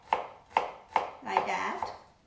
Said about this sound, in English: I just slice the cucumber, just thinly slices